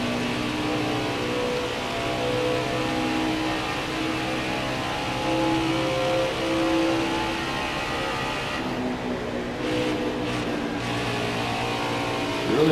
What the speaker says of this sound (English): Really working that throttle there through the corner